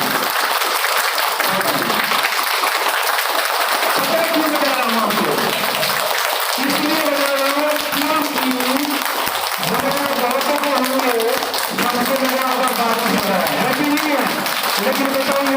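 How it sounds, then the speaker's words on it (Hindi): A training-session audience in India claps loudly and continuously for over fifteen seconds, a dense wash of applause with a voice speaking and calling out over it at times. "अभी तक का जब से बैठे हो तब से अभी तक का सबसे जोरदार ताली।"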